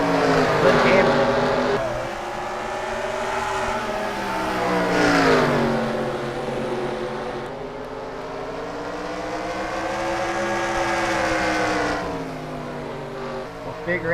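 Stock race cars roar around the Bristol oval, engines rising and falling as they sweep past in a continuous, loud pack with rippling revs throughout.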